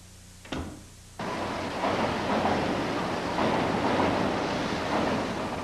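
Japanese bullet train running, heard as a sudden loud rushing roar of wind and rail noise that jumps in after a brief quieter start and stays steady and dense to the end.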